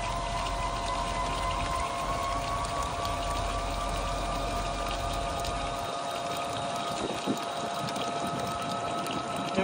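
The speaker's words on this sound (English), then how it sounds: "open the gate valve and let it all drain into the" Water drains steadily from the trap of a gold extraction machine into a pan through an opened gate valve, making a continuous, loud rushing and splashing flow with no pauses.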